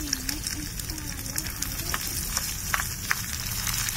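Onions sautéing in a tiny miniature cooking pan, a steady close sizzle with light stirring clicks throughout and a faint voice in the background.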